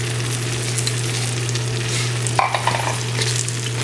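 Peppers and onions sizzle loudly in a hot pan for a steak sandwich, a steady frying hiss with a low hum beneath and a burst of stirring clatter midway as the vegetables are worked around.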